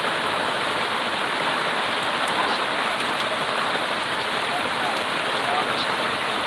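Steady rain falls continuously, a dense, even hiss of drops with no breaks, holding at the same level from start to finish.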